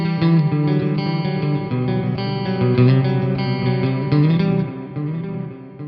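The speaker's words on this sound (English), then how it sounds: "So let's go ahead and add some effects. Let's do some reverb and delay now that you all have heard the naked tone." A Vola OZ ROA electric guitar rings out through reverb and delay, playing loud, distorted, sustained chords whose echoing tails overlap and then fade slightly at the end, with no talking.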